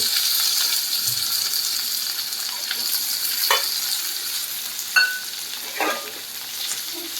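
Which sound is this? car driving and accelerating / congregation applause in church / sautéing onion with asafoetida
sautéing onion with asafoetida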